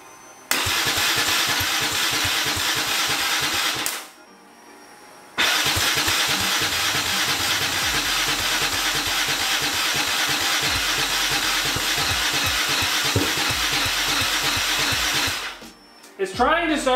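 A turbocharged EFI 660 engine fitted to a lawnmower cranks loudly and steadily in two long bursts, with a short pause between them, sputtering as it tries to catch before cutting out near the end.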